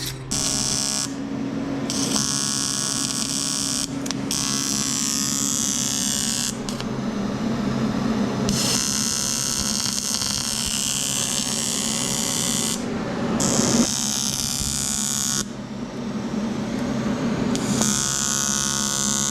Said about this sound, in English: So now I'm going to start welding all this back together.